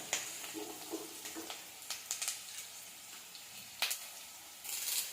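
Onions sautéing in a pan with dried red chillies for a Tamil-style egg curry, giving a soft, intermittent sizzle and crackle with occasional stirring clinks; faint and close, no talking.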